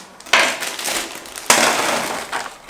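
Frozen, icy meat dumplings (pelmeni) straight from the freezer are poured into a disposable tray, making two loud rattling clatters of hard pieces tumbling and clinking together, close up with no talk.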